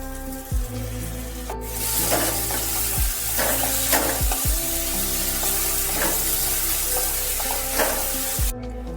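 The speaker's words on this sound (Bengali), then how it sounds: "পেঁয়াজ, রসুন, আদা কুচি এগুলো দিয়ে ভালোভাবে একটু কড়াতে নেড়ে নিতে হবে তেলের সাথে মিশিয়ে 2-3 মিনিট" Chopped onion, garlic and ginger sizzle steadily in oil in a kadai, with repeated scraping stirring strokes and occasional sharp knocks of the spoon against the pan, close and continuous with no talk.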